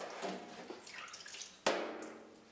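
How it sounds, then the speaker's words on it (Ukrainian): Cucumber seeds rinsed in a sieve under a running stream of water, a steady splashing wash with a sharper gush partway through, close and alone. "Потім вам необхідно очистити насіння під струменем води,"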